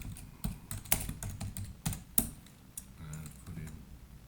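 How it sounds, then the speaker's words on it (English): Typing on a computer keyboard, entering a colour code into software: a string of crisp, close key clicks in uneven bursts with short pauses, heard alone without talk. "I'll just type in"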